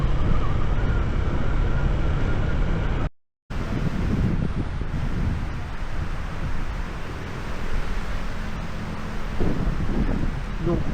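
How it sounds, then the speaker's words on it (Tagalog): Strong wind buffets the microphone at a Pacific coastal viewdeck, a loud continuous roaring rush with a brief cut partway through and distant surf beneath. "sobrang hangin dito."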